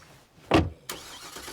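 A car engine starts in the video game State of Decay: a short loud burst of cranking, followed by a steady idle hum that runs to the end.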